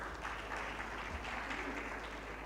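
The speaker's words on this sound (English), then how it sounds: "Another round of applause for the panel." Applause from a conference audience for a panel at an alternative investments event, a steady, dense wash of clapping from a large crowd, moderately distant and continuous.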